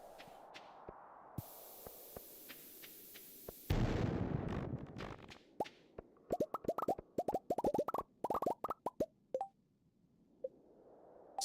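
A bomb explodes in the video game Stardew Valley with a sudden loud, dense burst, followed by a rapid scatter of crisp popping and clattering rock-breaking hits that thin out into quiet.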